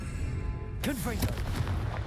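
A Confringo spell blast in Hogwarts Legacy, one sharp booming burst that cuts in suddenly over steady game ambience, followed by a brief crackling tail, while a voice speaks.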